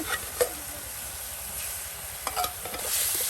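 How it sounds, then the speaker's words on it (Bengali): Chicken pieces are added to a frying spice paste in a village kitchen, a steady loud sizzle with a few sharp stirring scrapes and clacks from the spatula. "এই যে মাংসগুলো এখন দিয়ে দেওয়া হচ্ছে"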